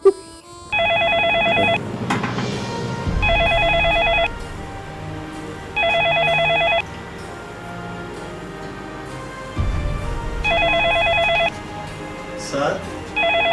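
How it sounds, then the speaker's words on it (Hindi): A telephone rings in a Pakistani drama serial, with bright electronic ring bursts repeating at regular intervals over a low background bed, loud and close. "काफी देर से आपका फोन बज रहा है"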